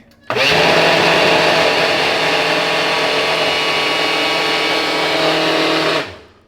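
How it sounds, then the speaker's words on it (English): A large countertop blender whirs as it mixes a protein shake with almond milk, starting abruptly and holding a loud, steady high-pitched motor whine for about six seconds before spinning down. "We back with the big boy blender."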